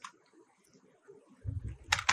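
A short burst of quick clicking keystrokes on a computer keyboard, typing into a web browser, comes right at the end after a quiet stretch and a faint low murmur.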